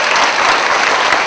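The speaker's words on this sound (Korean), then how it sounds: "박수 한번 주세요." A youth congregation bursts into applause at a church retreat, a dense, loud wash of clapping from many hands filling the room.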